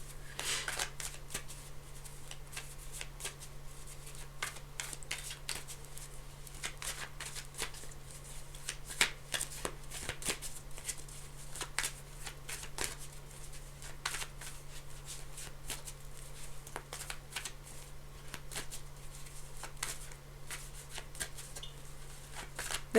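Tarot cards shuffled by hand, a continuous close riffling and flicking for over twenty seconds with a steady low hum beneath.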